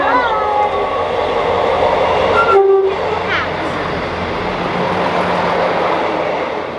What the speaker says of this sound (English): Did the train toot at you?